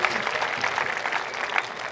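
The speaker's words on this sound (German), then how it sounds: "Bitte nochmal einen Applaus für euch." Audience applause at a science slam event, a steady dense wash of clapping filling the whole stretch at moderate level without pauses.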